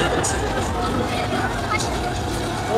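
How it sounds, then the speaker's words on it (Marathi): Dense crowd babble at the Hingoli Dussehra fair, a steady wash of many overlapping voices and general hubbub close around, with no single voice standing out. "सगळी गर्दी आहे बघा."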